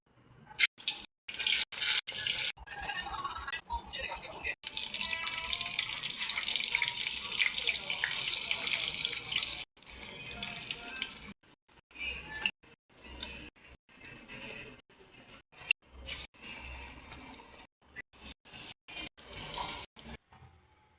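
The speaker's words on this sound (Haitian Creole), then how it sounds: "vous passez banane dans de l'eau" Plantain being rinsed under a running kitchen tap, with water splashing in short intermittent bursts and one longer steady flow in the middle; no talking.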